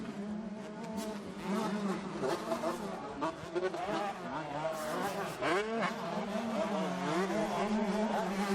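Maddie Racing Husqvarna motocross bike in an EMX 125 race at the MXGP of Germany 2019, two-stroke engine whining and revving as it passes pit lane on hard, slick ground, under steady commentary.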